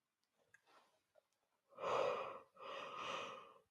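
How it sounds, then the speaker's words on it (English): Two long, loud breathy exhalations during a yoga session, heard alone after a few faint breaths, fit a yawn and its stretched, voiced sigh. "Oh, another yawn."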